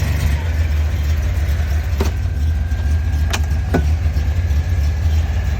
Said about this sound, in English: The motor engine is warm, so it started. You can hear the fan.